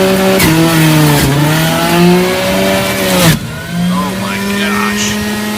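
A Breville BJE430SIL juicer motor runs at high speed with a loud, steady whine. It dips and labors briefly partway through as produce is pushed in, then recovers to a strong, even pitch.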